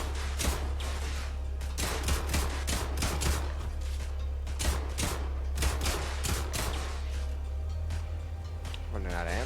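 Rapid bursts of vehicle gunfire from a mech in the video game Brigador Killers, dense overlapping shots rattling throughout over a steady low engine rumble, with a player talking over it.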